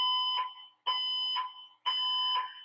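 A shrill, irritating electronic alarm sounds in three long, loud repeated blasts with brief gaps between them, each tone steady and piercing.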